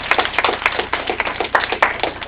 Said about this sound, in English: Let's give a round of applause for handlers.